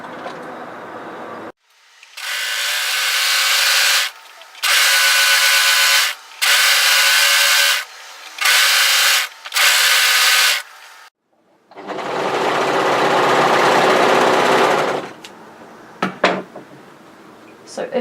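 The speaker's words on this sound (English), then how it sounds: "I'm going to seal my edges with my overlocker" An overlocker serges along the raw edge of a fabric top's spliced hem in a series of loud, steady buzzing runs with short pauses between them, ending in one long continuous pass, then quiet handling noises.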